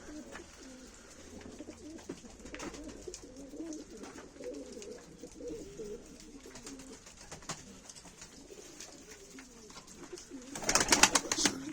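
Pigeons coo softly and continuously in a low, throaty murmur in Mardin, Turkey, with a brief flutter of louder noise near the end.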